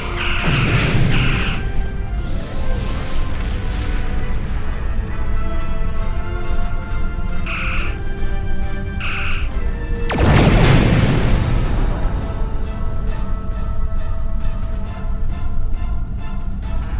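Starship weapons fire in Star Trek Online: energy weapon bursts and torpedo launches crackle and boom over a continuous space-battle din, with a heavy blast around the middle and repeated sharper discharges throughout.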